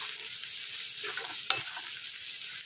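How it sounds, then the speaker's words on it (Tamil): Whole spices for chicken dum biryani fry hard in hot oil over a full flame, giving a steady close sizzle with a few stirring scrapes and one sharp clink midway. "நல்லா அடுப்பை ஃபுல்லாக வச்சு இதெல்லாம் ஒன்று ஒன்றா நல்லா பொரியிற அளவுக்கு வறுக்கணும்."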